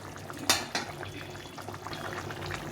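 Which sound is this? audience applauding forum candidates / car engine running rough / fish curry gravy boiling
fish curry gravy boiling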